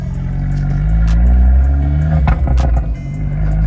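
An Abarth car engine revs loudly and steadily up close, with deep rumbling and a few sharp throttle blips toward the end.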